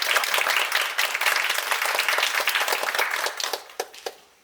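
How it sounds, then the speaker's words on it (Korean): Applause from a theatre audience at a stage play greets an actor: many hands clapping steadily, then thinning into a few separate claps as it fades out at the end. "박수 치려면 치고 말하면 마십시오."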